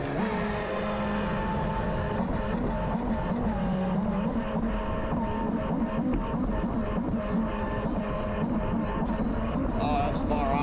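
An 8S 3D-printed RC jet boat runs across a pond on its first water test, giving a continuous high-pitched motor whine and water rush with shifting pitch. It is loud and steady, with a voice faintly underneath.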